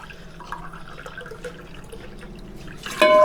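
Water from a glass is tipped into a cooking pot to make chicken stock for pulao, a low gentle trickle that swells into a brief louder splash at the end.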